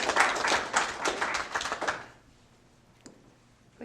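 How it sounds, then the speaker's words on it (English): Brief round of audience clapping at a city council regular meeting, a scattered burst of hand claps that stops after about two seconds, leaving quiet room tone and one faint tap. "we're going to do a little clap"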